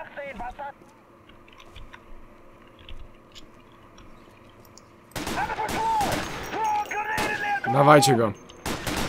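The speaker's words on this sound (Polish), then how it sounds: "robię suppressing fire, bo totalnie nic nie widzę" Bursts of gunfire from a WWII video game, quiet background noise at first, then loud sharp repeated shots packed close together, with a voice speaking over them.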